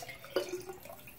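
Water poured from a tap into an empty glass sauce jar in a kitchen while making lasagna, heard as one short splash followed by a brief trickle, fairly quiet.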